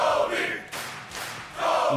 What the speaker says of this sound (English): The crowd chants his name.